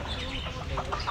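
Chickens cluck softly over a constant rumbling background, a few short calls rising near the end.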